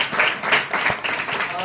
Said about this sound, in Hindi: क्या आप ताली दे सकते हैं?